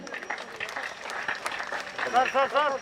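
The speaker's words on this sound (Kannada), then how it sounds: "ಇವರಿಗೆ ಬರಲಿ ಜೋರಾದ ಚಪ್ಪಾಳೆ" Steady applause from a crowd fills the space at a police trophy award ceremony, with a voice rising over the clapping toward the end.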